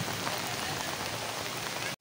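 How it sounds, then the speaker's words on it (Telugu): Heavy rain from a cyclone pours down in Eluru, a steady, dense hiss of drops hitting surfaces close by, with no voices and an abrupt cut at the end. "చూడొచ్చు వర్షం అయితే పడుతుంది ఏలూరులో."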